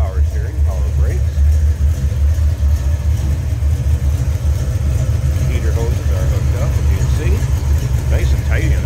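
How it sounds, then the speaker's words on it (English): A 1968 Chevrolet Chevelle's 402 V8 idles steadily with a deep, rumbling low burble, running continuously nearby while someone talks over it. "There it is, 402 V8"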